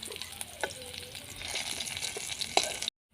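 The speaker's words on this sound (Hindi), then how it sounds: "नॉय पियाज भाजा हुई कना नोका गे ओवारा" A steady crackling sizzle of onions frying in a pan over low heat, close up, with occasional louder pops and no talking.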